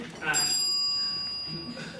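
A bell rings at a debate-style game show to end a candidate's speaking time, giving a bright sustained ring that fades slowly under a voice speaking over it.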